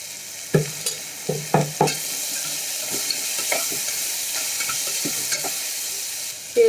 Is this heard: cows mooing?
no